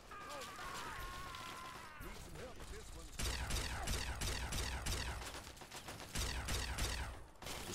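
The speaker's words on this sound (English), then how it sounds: "Just shooting the railing at this point." Rapid bursts of gunfire strike a railing in the video game Fallout 3, with several quick volleys repeating in clusters, fairly quiet overall.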